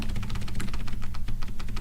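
Keys clatter on a computer keyboard during a CSS coding session, a fast, close, fairly loud run of overlapping keystrokes in an irregular rhythm, heard alone over a low background hum.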